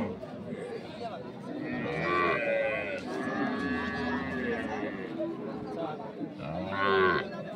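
Cows low repeatedly at a busy cattle market, with loud, drawn-out moos rising over a constant murmur of people talking and trading nearby.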